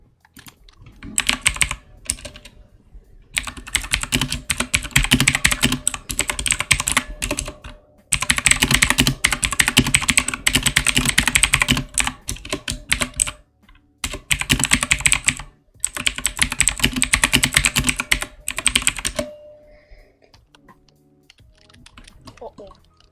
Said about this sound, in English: I am aware that my keyboard is rather loud. They are Cherry MX Blue key switches